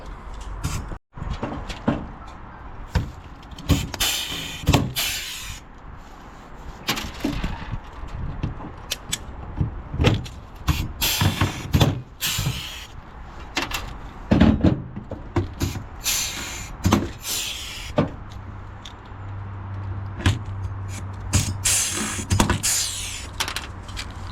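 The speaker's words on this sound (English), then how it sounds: "he's riveting down his side first, and then I will get this side riveted" A Renault truck has a roof catwalk riveted on, giving irregular bursts of loud, sharp rivet-gun blasts and clanks in quick clusters, separated by short pauses, close by.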